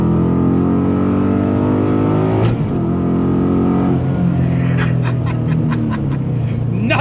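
An American muscle car engine rumbles and revs, a deep throbbing note that climbs and falls, with a sharp blip midway and quick bursts toward the end, loud and close.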